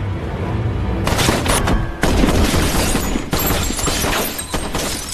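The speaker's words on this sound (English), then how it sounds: "attacks the Mexicans, leading to a violent exchange of gunfire" Loud, dense bursts of automatic and single gunfire crackle almost without pause through a violent movie shootout, as a team attacks Mexican cartel men at close range.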